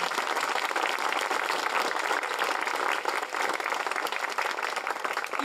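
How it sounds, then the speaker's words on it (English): An audience applauding at a nature center grand opening, dense continuous clapping from many hands, steady and full for the whole stretch without talk. "Let's give them a round of applause."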